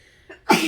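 A single sharp sneeze bursts out close by after a brief intake of breath, loud and abrupt against a quiet background.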